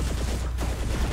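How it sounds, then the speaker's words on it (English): A rapid burst of gunfire rattles off in quick succession, a continuous volley of shots from the game Saints Row: The Third. "He's shooting at us."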